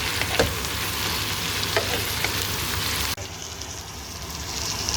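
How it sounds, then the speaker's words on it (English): Caramelized chicken frying with tomato, ramba, chilli and curry leaves stirred into the pan for Sri Lankan deviled chicken, a dense continuous sizzle with spatula scrapes, close and steady, shifting slightly in tone partway through. "Now time to put the tomato, ramba, chilli, curry leaves in it. And start stirring this through."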